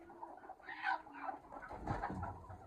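A hen clucks softly and low in a quiet, murmuring series of close, throaty calls.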